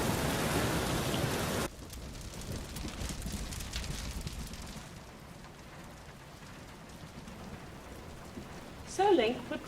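Steady rain falls in a Legend of Zelda scene, loud at first as a dense hiss, then dropping to a softer, continuous patter with low rumbling underneath, and a brief voice-like sound near the end.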